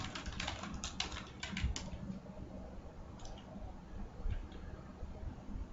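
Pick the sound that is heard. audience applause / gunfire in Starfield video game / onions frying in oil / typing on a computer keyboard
typing on a computer keyboard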